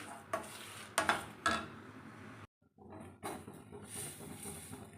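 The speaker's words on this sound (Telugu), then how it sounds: "ధనియాలు మెంతులు జీలకర్ర వెల్లుల్లి ఎండుమిర్చిని లైట్గా వేపుకోవాలి మాడకుండా వేపుకోవాలి" Coriander seeds, fenugreek, cumin, garlic and dried red chilies are dry-roasted in a pan, with close scraping stirs and clinks of a spoon against metal, a short silence, then softer stirring and a light rustle of the spices.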